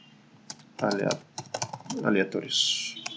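Fingers tap on a computer keyboard while entering values in RStudio, producing quick close clicks in short bursts, with a final key press near the end and some quiet speech mixed in.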